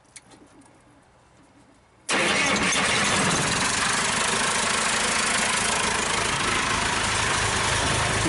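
A 1955 Chevy truck's engine catches after a quiet lead-in with faint birdsong, then roars into a loud, steady, close run that holds to the end, with nobody speaking.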